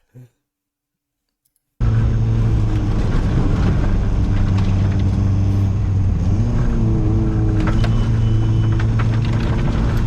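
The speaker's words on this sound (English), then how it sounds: "This is how I drive my car, by the way." After a brief quiet moment, a car engine cuts in loud and close, holding a steady droning hum that climbs in pitch as it revs and pulls through short gearing.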